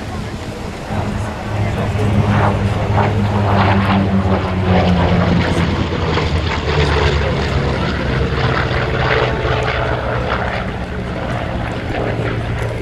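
Droning engines of a formation of Yak-50 aerobatic propeller aircraft pass overhead at the Flying Legends airshow, Duxford, 2013, a steady loud roar that swells and holds, with crowd murmur faintly underneath.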